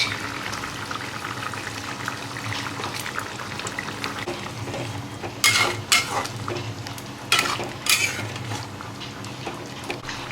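Paneer added to a pan of capsicum masala and stirred, with a low steady sizzle of frying broken by two sharp bursts of scraping and stirring near the end.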